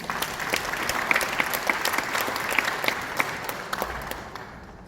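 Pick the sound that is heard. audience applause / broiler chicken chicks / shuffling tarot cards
audience applause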